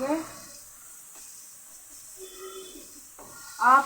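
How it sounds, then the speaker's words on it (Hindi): Garlic sizzles while frying in a pan for matar pulao, a soft, steady hiss that runs quietly throughout, with a voice speaking briefly at the start and end. "अब मैं इसमें लहसुन ऐड करूँगी।"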